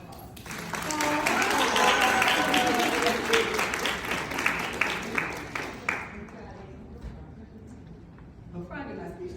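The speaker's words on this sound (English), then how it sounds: "Give them a round of applause." A summit audience applauds the speakers, loud and dense at first. The clapping thins into scattered claps after about six seconds, with voices and cheering mixed in.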